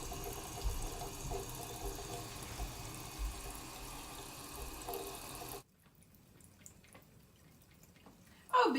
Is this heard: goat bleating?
no